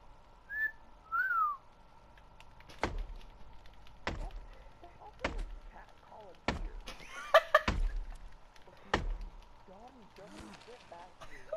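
Short whistles from a player in the survival game The Forest, a couple of brief melodic tones early on, mixed with sharp thuds and chopping hits from gameplay and speech.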